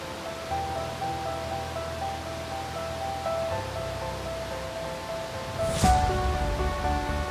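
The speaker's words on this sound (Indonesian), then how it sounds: "air terjun dari ketinggian 120 meter ini memang bertumpuk-tumpuk dan melebar seperti bentangan tirai raksasa" A 120-metre waterfall fed by Mount Semeru springs rushes with a steady, broad hiss of falling water, its constant roar running beneath soft background music.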